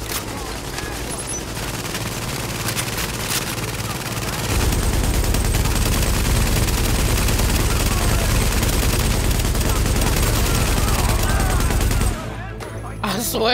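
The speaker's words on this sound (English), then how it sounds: "You have to keep shooting the gun so it, like, stays stable." Sustained rapid machine gun fire from The Division, dense and loud from about four seconds to twelve, with lighter shooting and speech-like activity before it and a brief drop at the end.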